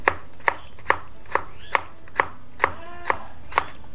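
A knife slicing garlic on a cutting board, about nine crisp, evenly spaced chops close up, with no one talking.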